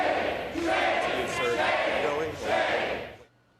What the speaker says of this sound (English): They're yelling shame, and then they're celebrating Adam Schiff by clapping